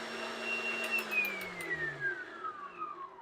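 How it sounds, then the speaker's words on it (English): A stand mixer beats cupcake batter until fluffy and light, its motor giving a continuous close whine whose pitch slowly sinks, with a few faint clicks early on. "mix it together using your stand mixer"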